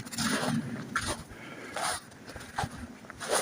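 A hiker's dog out on a trail breathes in quick, rhythmic panting bursts close by, with short scraping sounds between breaths and no talking.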